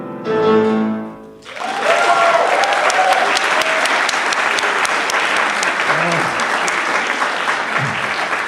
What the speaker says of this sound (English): I hadn't scripted the clapping in there